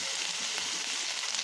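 Okra (bhindi) fries in oil with a steady, close sizzle and faint crackling, continuous and without speech.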